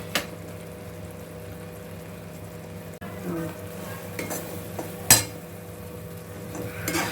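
A spoon stirs banana halwa in a pan with cardamom powder, cashews and raisins, giving soft scraping and faint sizzling with a few sharper clinks of metal against the pan.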